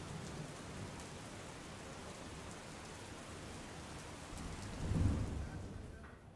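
Monsoon rain falling in Mandvi, Kutch, a faint, steady wash of drops with a low rumble swelling briefly near the end, with no speech.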